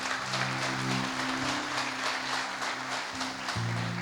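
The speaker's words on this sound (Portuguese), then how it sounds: "Aplauda Ele mais uma vez essa noite." A church congregation applauds during a worship service, steady clapping for about four seconds with sustained organ or keyboard chords underneath.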